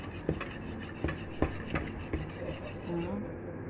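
A spoon stirs Malahabiya custard mixture in a pot, giving a few distinct scraping clicks against the pot over a steady low rustle, moderately close, with no talking.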